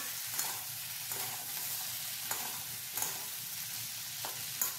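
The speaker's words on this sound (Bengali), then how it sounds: "আর ভালো করে বেশ ভাজা ভাজা হচ্ছে" Pumpkin pieces frying in oil in a pan, with a steady, close sizzle broken by regular scraping and stirring strokes about every second, quiet and without talk.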